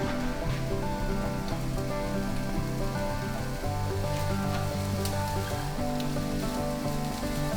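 Diced onions, garlic and bacon fry in a pan with a dense, continuous sizzle and crackle, held steady and close throughout with no talking.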